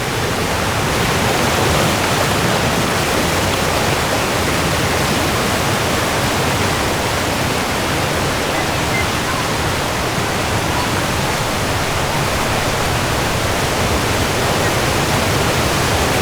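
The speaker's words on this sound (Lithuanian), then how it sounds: "čia labai garsiai vanduo bėga." A large mountain river in the Tatras near Kasprowy Wierch rushes loudly and steadily, a dense roar of water heard close by with no pauses or voices.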